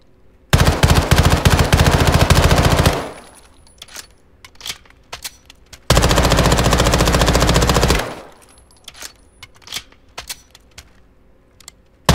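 Two long, loud bursts of automatic fire from an MPX PCC in the Modern Warfare II shooting range, each lasting a few seconds. Between and after the bursts come scattered clicks and small metallic clinks, with no voices.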